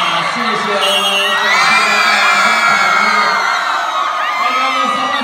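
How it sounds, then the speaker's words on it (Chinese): A school audience at a high school civic training event with dance performances bursts into loud, sustained cheering and clapping, with children shouting and whooping. A voice rises over the crowd noise throughout. "掌声鼓励！"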